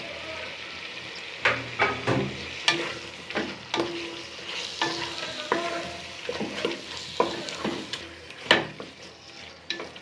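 Goat head pieces fry in a pan while being stirred vigorously, producing a rapid series of close clanks and scrapes over a bubbling sizzle throughout.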